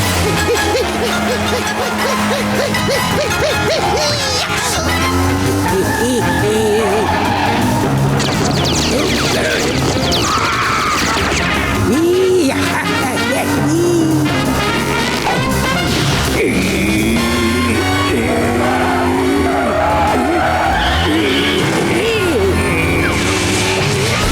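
A cartoon boat-car rolls away with its handbrake left off, skidding and crashing in a busy run of screeches, thuds and smashes under cartoon voices and music, loud throughout.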